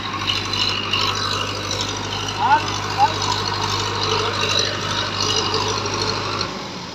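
A tractor engine idles in a village, a steady low rattling drone running beneath excited talking voices before cutting off near the end.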